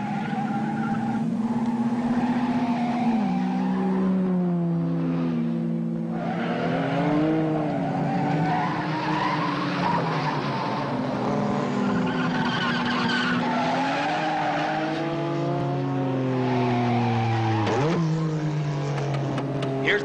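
Race cars in a 1954 road race skid and squeal their tires with sustained wavering engine drone and tire howl, loud and continuous, with pitch sweeping up and down as the cars slide through turns.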